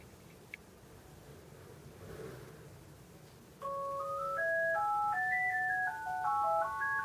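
An HTC HD2 smartphone placing a call plays a melodic ringing tone of stepped electronic beeps. The tone starts partway through and repeats clearly over faint background hiss, with no talking.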